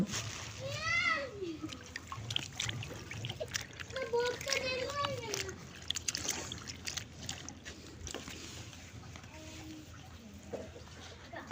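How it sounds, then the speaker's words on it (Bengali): Supply tap water pouring and splashing into a container at home, a running, spattering wash beneath several voices, including a child's, talking throughout. "সাপ্লাই পানি পড়তেছে, কয়ও পড়তে দেরি লাগে না।"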